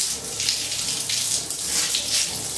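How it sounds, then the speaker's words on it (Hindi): Water gushing steadily from a bathroom tap on a newly installed concealed shower valve setup, a continuous close splashing hiss with no voices. "अब जो है हम नीचे टूटी ऑन करते हैं।"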